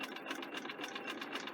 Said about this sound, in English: So I'm stitching all up this one side, so I'm enclosing the raw edge inside.